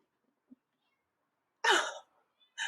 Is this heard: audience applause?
no